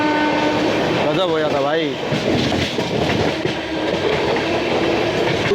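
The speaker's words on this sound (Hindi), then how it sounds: "और यहाँ हम पैरेलली फिर से ओवरटेक कर रहे हैं हावड़ा राजधानी को" Amrit Bharat Express train running at speed while overtaking the Howrah Rajdhani on a parallel track, a loud steady rumble and rattle of wagons with a brief horn, and someone talking over it.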